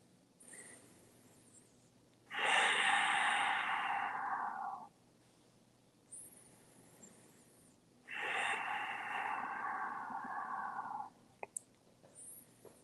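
Slow, deep breaths taken while holding an Iyengar yoga pose: two long, loud airy exhales of about two seconds each, separated by quieter inhales, close and alone without talk.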